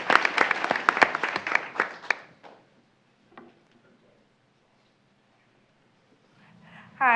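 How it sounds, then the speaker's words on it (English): Scattered applause at a school board meeting for a student's family, a couple of seconds of uneven claps fading into near silence before a voice begins. "Round of applause for her family who's here."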